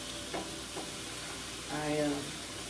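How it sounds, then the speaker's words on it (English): A steak sizzling in a frying pan while being turned over, with a steady low frying hiss and a brief louder burst of sizzle near the end as it settles on its other side; faint speech sits in the background. "let me turn my steak over"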